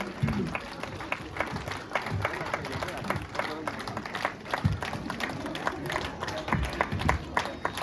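A crowd at a monastery event applauds the sponsors, with scattered, moderately loud claps and crowd noise mixed under ongoing talk.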